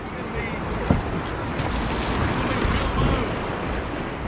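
Rushing whitewater in the competition channel at the US National Whitewater Center, a steady broadband roar of churning water with wind buffeting, constant and close throughout with one brief knock near the start.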